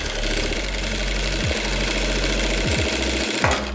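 A sewing machine stitches along a seam edge, its motor humming in a rapid mechanical chatter close by, with brief speed changes as the stitching slows and restarts.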